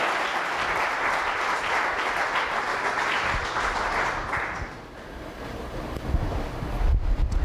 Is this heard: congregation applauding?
yes